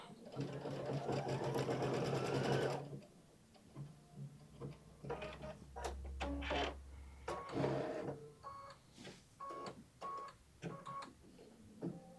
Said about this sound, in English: we're going to hit the go button again, and it's going to stitch the short spokes placement lines